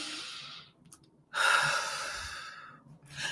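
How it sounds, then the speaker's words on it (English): A person takes one deep breath: a soft airy inhale, a pause, then a long, louder exhale that fades out, heard close and alone. "Okay, deep breath."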